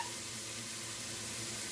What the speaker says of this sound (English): So you want to saute these up until they're kind of browned.